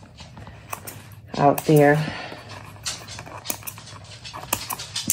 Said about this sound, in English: if you hear anything, it's my dog clacking around